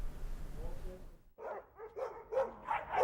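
Several dogs at a Puppy Super Bowl event give short, lively barks and yips in a quick run of bursts, fairly close and loud, after a brief quiet pause.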